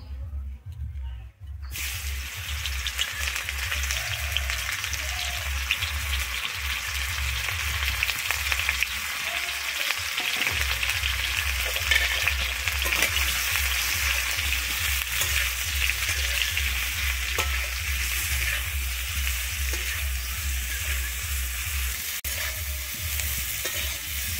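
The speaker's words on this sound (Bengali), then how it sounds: "আমি যে ম্যারিনেট করে রেখেছিলাম ফুলকপিটা, ওইটাকে আমি এবারে ভেজে নেব" Marinated cauliflower frying in hot white oil, giving a loud, steady sizzle and crackle that runs unbroken from start to finish, with a low hum underneath.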